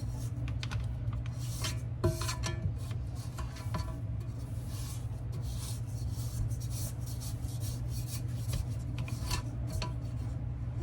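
Spatula scraping soft chocolate chip cookie dough down the sides of a mixing bowl, a steady run of rasping, rubbing strokes, close and fairly even, with no talk.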